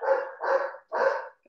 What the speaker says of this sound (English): that's my dog now.